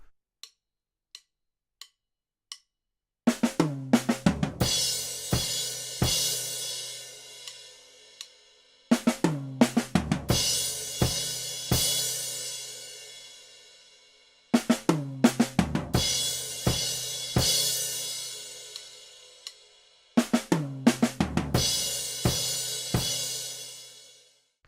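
An acoustic drum kit plays a short count-in of light clicks, then four loud phrases of busy drum fills, each ending in crashing cymbals that ring and decay, close and without talk.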